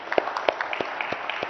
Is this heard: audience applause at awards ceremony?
yes